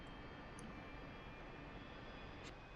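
Jet aircraft engines holding a steady RPM in a flight-sim video game, a constant broadband roar and whine at low level with no change in pitch or loudness.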